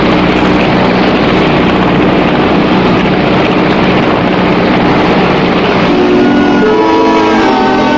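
Small dinghy named Aquabelle heading out to open sea with three passengers: a loud, steady engine drone with a dense wash of noise that continues unbroken throughout, and no voices.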